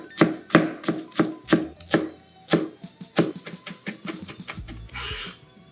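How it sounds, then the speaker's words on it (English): A knife finely chops shadow benny herb on a board, about a dozen crisp, evenly spaced chops close up, ending in a brief scraping sweep. "Giving that a fine chop."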